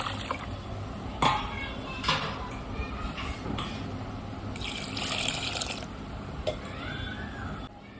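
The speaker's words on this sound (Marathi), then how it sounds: "आता याच्यामध्ये आपण पाणी टाकून घेऊया आणि याला भिजत ठेवून देऊ" Water pours and splashes into a container of rice being soaked for idli, with a steady liquid rush and a few clinks of the vessel, heard up close.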